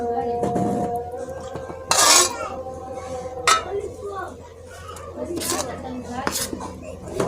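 Hot ghee is stirred into moong dal flour for laddoos, with a spoon scraping and clinking against a metal pan in sharp bursts while someone speaks.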